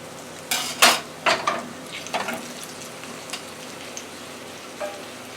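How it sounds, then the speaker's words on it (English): Beef potato pie sizzles and crackles in hot oil in a frying pan, with scattered clinks and scrapes of the pan and utensils. "I moved the frying pan up so that the oil can run over that way"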